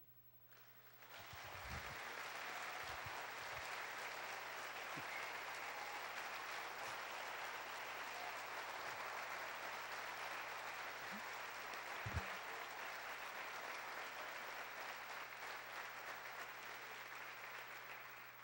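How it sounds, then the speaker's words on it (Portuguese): Sustained applause from a church congregation at an evening Feast of Tabernacles service, steady and dense for the full length, with only faint voices underneath. "Forte aplauso ao Senhor."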